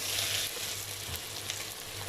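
Kabsa masala frying and being stirred in a pan over a low flame, a steady soft sizzle running throughout with faint scraping, close and alone.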